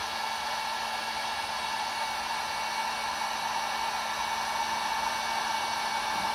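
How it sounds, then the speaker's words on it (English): A cheap heat gun blows hot air in a constant, unbroken whooshing roar with a faint steady motor hum underneath, close and even in loudness throughout. "I'll show you one with the heat gun. So I got a cheap heat gun here."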